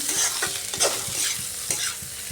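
Chopped ginger fries in hot oil for a Bengali rohu fish-head curry, a steady close crackling sizzle punctuated by regular stirring scrapes of a spatula in the pan, with no one speaking.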